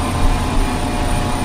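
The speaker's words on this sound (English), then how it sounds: "I can just punch the throttle up like all the way." Twin turboprop engines of a Beechcraft B1900D in Flight Simulator 2002 roar steadily at full throttle, a loud, constant low rumble with a broad whooshing hiss and no break.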